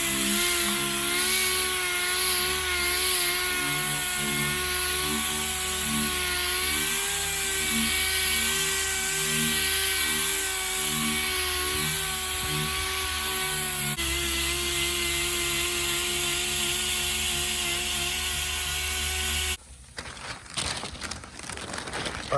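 A dual action sander whirs continuously and loudly across 2K primer on the body of a 1996 BMW 750iL V12, its steady high-pitched drone close to the source before cutting off into rattling handling noise near the end.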